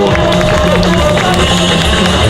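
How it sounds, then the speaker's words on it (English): Festival audience at a storytelling performance breaks into steady, dense clapping mixed with crowd cheering, a loud continuous wash that fills the whole moment. "Let's clap it up for Karin Amano."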